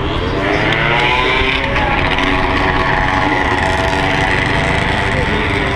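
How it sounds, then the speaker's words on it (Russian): Loud exhaust from a vehicle with an aftermarket muffler passing along a street at a main intersection in Akihabara, Tokyo, a steady roaring drone close by that holds for several seconds with background street noise. "Вот, кстати, за такой вот глушитель в Японии менты ловят."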